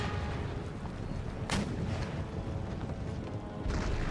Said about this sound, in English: Put artillery, engage the fort. You guys fire khaki shot at troops on the walls.